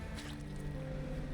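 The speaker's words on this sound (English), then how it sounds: "we've got ooze pouring into the vessel" Ooze pouring into a fishing boat in the video game Dredge, a short soft wet dripping and squishing trickle over a low steady hum.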